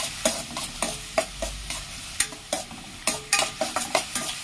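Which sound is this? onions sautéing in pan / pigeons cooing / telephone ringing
onions sautéing in pan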